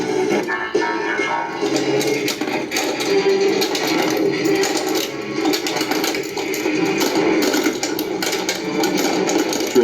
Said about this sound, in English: You get to smash the Camaro Bumblebee with a pinball.